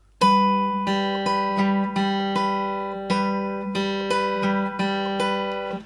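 Guitar playing bars two and three of a song, a sequence of about a dozen clear plucked notes ringing over one another at an even, moderate pace, with no voices.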